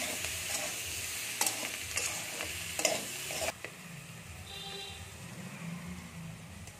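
Turmeric and salt being stirred into food in a pan, with close scraping and clinking strokes of the utensil over a soft sizzle, the stirring stopping midway and leaving only the quieter sizzle.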